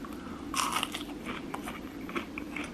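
Crisp, crunchy bites into a fried green tomato and chewing close to the microphone, a few loud crackling crunches spread over a couple of seconds, no talking.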